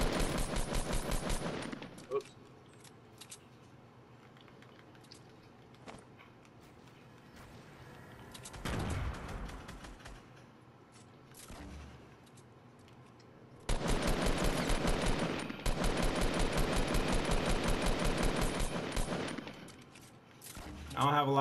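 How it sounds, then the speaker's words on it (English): Video game gunfire rattles in sustained automatic bursts, one long volley at the start and a heavier one later, with quieter single shots and movement between them, close and loud. "I'll check out the people shooting at me."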